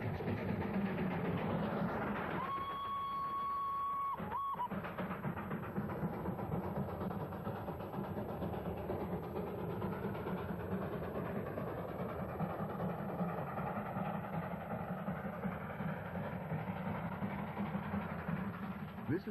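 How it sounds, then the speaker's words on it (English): Darjeeling Himalayan Railway 2-foot gauge toy train climbing steep mountain gradients in the 1970s, a steady rumbling, rattling run throughout with a brief whistle-like tone near the start. "This is the spectacular little toy train with its 2-foot gauge, scrambling up the mountains"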